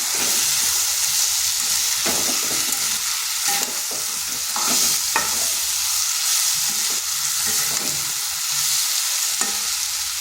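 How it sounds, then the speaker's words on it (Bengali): Steady, loud sizzling of red lentils frying in a pan over low-medium heat, a continuous hiss with occasional scraping stirs, no voices. "এরপর স্লো টু মিডিয়াম আছে তিন থেকে চার মিনিট একটু ভেজে নিচ্ছি"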